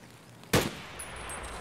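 A single sharp, loud gunshot cracks out in the video game Escape from Tarkov and fades into a low ringing tail, with a faint metallic tone following.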